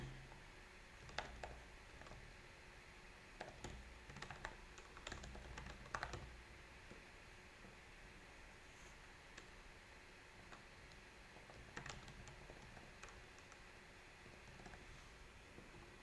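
Typing on a computer keyboard: faint, close key clicks in short bursts separated by pauses, over a steady low hiss.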